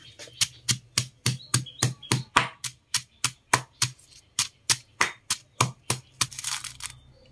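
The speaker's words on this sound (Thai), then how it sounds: "เราไปโขลกพริกกันครับผม กระเทียมนะครับข่าตะไคร้นะครับ ขมิ้นนะครับ โขลกรวมกันไปครับผม" Chilies, garlic, galangal, lemongrass and turmeric pounded together in a mortar with a pestle: a steady run of about twenty sharp, evenly spaced thuds, close and distinct, with no talking.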